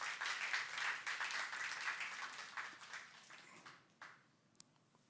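Congregation clapping inside a church during a youth service sermon, a dense steady wash of many hands that thins out and fades after about four seconds, leaving a few stray claps.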